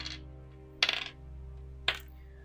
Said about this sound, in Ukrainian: Кубик, старенький кубик, D6.